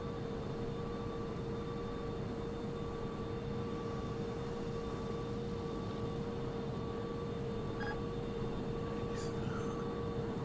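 Steady cockpit drone of a Boeing Dreamlifter in the Prepar3D flight simulator, a constant broadband engine roar with a steady tonal hum running unbroken throughout, with a faint brief chime near the end.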